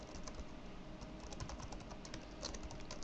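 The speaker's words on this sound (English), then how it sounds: "I cannot type" Quiet, fast clicking of keys on a computer keyboard, a continuous soft patter of typing heard close up over a faint background hiss.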